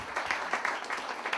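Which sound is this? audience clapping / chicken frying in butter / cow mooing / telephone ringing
audience clapping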